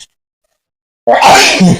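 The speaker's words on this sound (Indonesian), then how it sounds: "Maaf ya teman-teman, agak bersin." After a second of near silence, a single loud, close sneeze bursts out suddenly and trails off over about a second.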